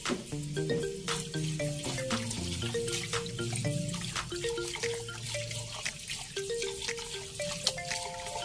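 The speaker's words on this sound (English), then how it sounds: "Rinse the red rice twice in cold water to remove any dust or debris." Red rice being rinsed in cold water in a medium pot: steady running water with sloshing, bubbly trickles and drips throughout, close and alone, with a faint musical tune underneath.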